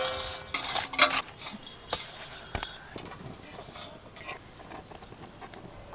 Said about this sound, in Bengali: ভালো করে মিশিয়ে নেব সব কিছু একসঙ্গে।